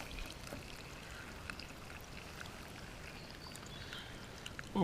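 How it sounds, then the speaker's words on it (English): Water tipped from a container into a pot or mug at a campsite, a soft steady trickle and splash running quietly throughout, with a brief louder clatter at the very end. "let's tip this water in, give this a stir"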